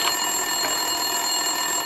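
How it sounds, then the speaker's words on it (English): Office telephone ringing in the Max Payne video game, a continuous bright electronic bell tone, steady and unbroken, heard alone. "Winterson's phone was ringing."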